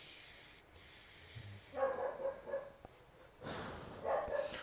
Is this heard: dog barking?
yes